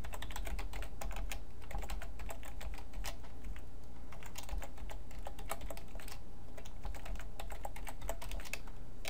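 Computer keyboard clattering continuously as HTML code is typed, rapid uneven keystrokes close up and steady throughout, with no talking.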